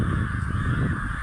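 Many crows caw from trees all around, a dense, continuous chorus of harsh calls close by with no talking.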